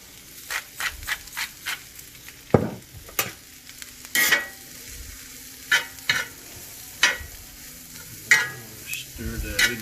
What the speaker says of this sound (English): Stir that in real good.